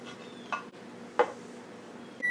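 An oven signals while a cherry crumble is being prepared, giving two or three faint, short beeps spaced apart against a quiet kitchen background, with no speech.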